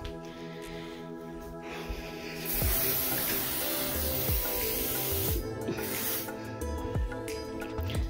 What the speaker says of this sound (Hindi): अभी थोड़ा सा स्प्रे करते हैं।